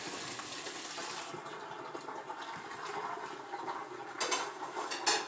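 Cooked pasta and its boiling water pour out of a pot into a colander in a home kitchen, a steady gushing splash for several seconds with a few louder sloshes near the end.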